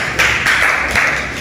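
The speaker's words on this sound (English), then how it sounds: "Let's also give Group 2 a big round of applause." A school class gives a short round of applause for a group of classmates, with a few brisk bursts of clapping that come fairly close and loud.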